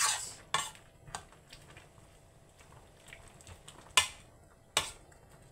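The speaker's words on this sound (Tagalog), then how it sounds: "Halo na natin" A spoon stirring a cooked eggplant dish in a metal pot, with sharp scattered clinks against the pot rim and soft scraping between them, close and otherwise quiet.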